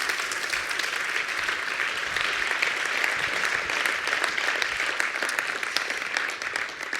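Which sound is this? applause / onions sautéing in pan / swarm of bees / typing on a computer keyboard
applause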